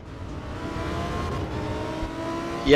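Lamborghini Huracan race car in Assetto Corsa EVO at the Nürburgring, a steady engine drone holding at moderate volume with a sharp rise right at the end.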